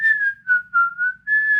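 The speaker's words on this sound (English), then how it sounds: "I like the whistling in this part." Bright melodic whistling from a Snow White film scene, a clear tune moving through several phrases with short breaks between them, loud and alone with faint background music underneath.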